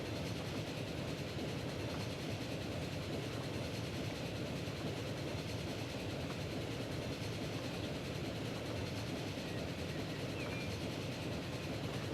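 Express train rolling along the line in a 1910-era European transport sim, a steady continuous rumble with faint rail clatter, constant and moderately distant with no talk.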